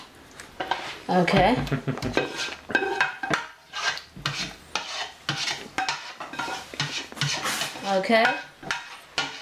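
A large metal turkey pan clatters and scrapes as it is handled and slid into place in a home kitchen, with sharp knocks and rattles among short spoken remarks.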